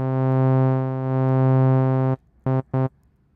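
A buzzy, harmonically rich synthesizer tone from the ES-2 synthesizer, with filter drive boosting the signal, sustains steadily, then cuts off, followed by two short stabs of the same sound.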